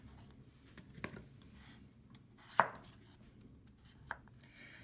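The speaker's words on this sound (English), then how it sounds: "I'm going to cut like the same way as kind of like a rangiri." Knife chopping vegetables into chunky rangiri wedges on a cutting board for Japanese curry rice: three sparse, crisp chops spaced well apart over a quiet background.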